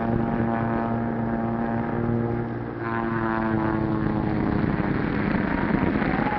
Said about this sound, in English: Something's wrong with Barton's plane